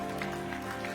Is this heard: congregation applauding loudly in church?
yes